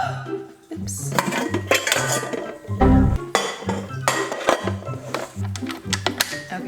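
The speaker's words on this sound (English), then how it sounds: "I got my little trusty mixer. So let's just set her up" A small kitchen mixer being set up for cookie baking, with clanking and clinking of metal parts and bowls, several sharp knocks and a rattling thud, close and busy throughout.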